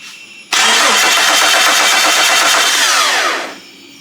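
A Jeep 5.0 stroker engine cranks and catches abruptly, then holds a loud, steady idle for about three seconds before the sound drops off, close by with no talking.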